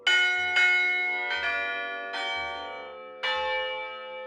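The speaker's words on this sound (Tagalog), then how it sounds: "Ang bells na ito, hindi katulad ng ordinaryong kampana na iisang tunog lang ang nagagawa dahil set o binubuo ito ng maraming kampana" A carillon of tuned church bells rings five separate strikes at uneven intervals, each note clear and resonant with a long ringing decay, close and loud with no voices.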